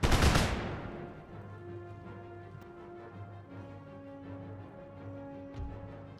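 Musket volley from an infantry rank in Empire: Total War, a single loud crashing burst that decays quickly into a lingering battlefield rumble with faint distant shots and sustained low tones.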